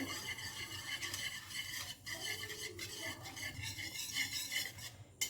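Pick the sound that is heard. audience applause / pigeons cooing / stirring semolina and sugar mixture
stirring semolina and sugar mixture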